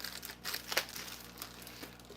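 Plastic bag being handled, giving soft crinkling and rustling with a few sharper crackles, quiet and close with no talking.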